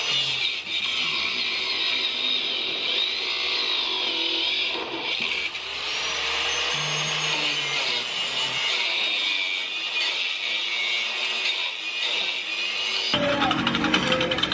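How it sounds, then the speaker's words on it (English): An angle grinder cuts through the top nut of a strut on a fourth-generation 4Runner during a Bilstein 5100 install, a steady high-pitched whine grinding continuously for several seconds before stopping near the end. "I'm gonna take my angle grinder and cut this off right now"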